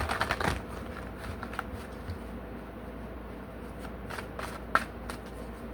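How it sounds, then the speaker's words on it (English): Tarot cards being shuffled by hand, a steady papery riffling that runs through the whole stretch with a few sharper snaps near the start and toward the end, close and fairly quiet. "I keep saying that Two of Cups when I shuffle these cards"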